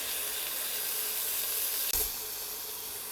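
Pieces of chicken go into a hot frying pan for Chinese fried rice, giving a steady broad hiss of frying with one brief sharp clatter partway through.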